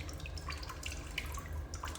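Water keeps running and dripping from a bathroom tap that has been shut off with pliers, a faint continuous trickle with irregular small drips and splashes, heard alone.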